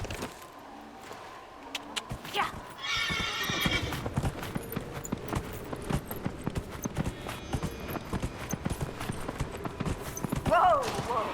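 In the video game Dragon Age: Inquisition, a horse whinnies loudly near the start and again at the end while steady hoof clip-clops run throughout, with a person talking over the sounds.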